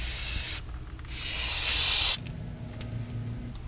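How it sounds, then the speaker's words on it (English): Cleaner sprayed onto the front wheel hub parts of a 1973 Dodge Mini Winnebago gives two bursts of close, loud hissing spray, the second longer, each stopping abruptly over a low background hum. "Once we've sprayed it down and wiped it off, the parts are all clean"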